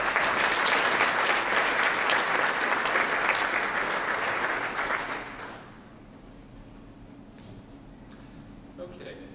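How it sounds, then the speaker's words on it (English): Loud, dense applause from a conference audience honoring a leadership award winner at a 2011 TechAmerica Foundation Vision Conference, sustained for about five seconds before dropping off abruptly into quiet room tone. "join me in a round of applause for Matt"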